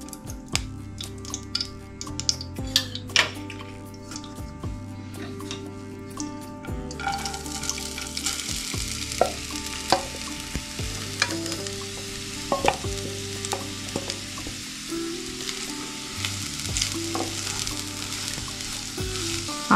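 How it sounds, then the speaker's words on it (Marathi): Ghee heating in a pan on a gas stove, with clinks and handling noises at first and then a steady, close sizzle joined by intermittent stirring scrapes and background music, with no talk. "गॅस चालू केलेला आहे। आता आपण तूप टाकून घेऊयात।"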